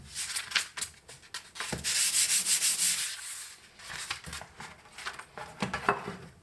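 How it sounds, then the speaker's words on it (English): A sharpening stone is rubbed back and forth on sandpaper laid on a table to flatten it: close, gritty scraping strokes in an irregular rhythm, with one longer sustained rub partway through and no talk. "you want to start rubbing the sharpening stone on the sandpaper"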